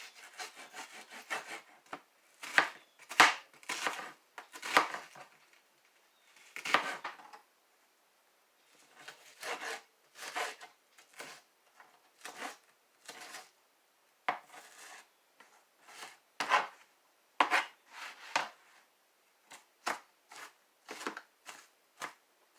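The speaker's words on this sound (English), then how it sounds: "cut my onion" An onion is chopped with a knife on a cutting board in a home kitchen, giving quiet, close, irregular bursts of crisp cuts separated by short pauses.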